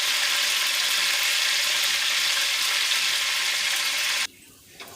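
Fish shallow frying in oil in a pot for Jamaican brown stew fish, a loud continuous hiss and sizzle that cuts off abruptly near the end, leaving quiet room sound.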